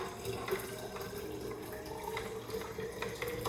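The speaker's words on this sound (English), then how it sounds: "So I'm going to collect another bottle of kangen water, and while that's pouring from the front, we have beauty water pouring from the back." Kangen ionized water streams from an ionizer spout into a spray bottle, a steady splashing trickle close by, with no talking.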